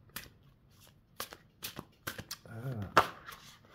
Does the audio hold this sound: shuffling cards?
yes